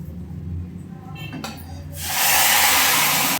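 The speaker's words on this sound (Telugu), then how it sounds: "ఇదిగోండి ఇప్పుడు తాలింపు వేసుకుందాం." Spices for a tempering drop into hot oil and burst into a loud, steady sizzle close by, after a quieter stretch with a faint voice and low kitchen rumble.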